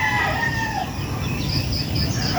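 Farm chickens give soft clucks and high chirping calls over a steady outdoor background, moderately near and fairly quiet.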